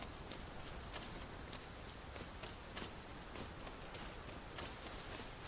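Steady rain falls across a scene in the video game Dragon's Dogma 2, a constant soft hiss with scattered brief drop taps throughout, fairly quiet and without talk.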